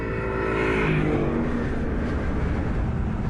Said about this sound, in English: This is the Vantage S, a tweaked version of the already potent V8 sports car.